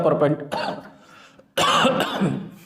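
A couple of rough coughs close to the microphone, harsh bursts separated by a short pause, mixed with vocal sounds.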